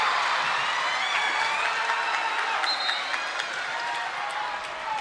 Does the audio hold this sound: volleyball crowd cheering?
yes